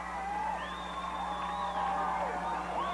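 Whoops and cheers from a wrestling arena crowd at a 1993 UWF Rampage TV taping rise and fall in a continuous roar, with shrill individual shouts cutting above the mass of noise.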